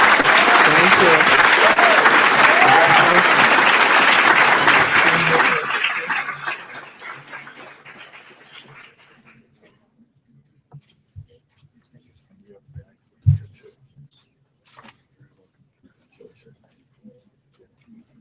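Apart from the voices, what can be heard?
audience applause at commencement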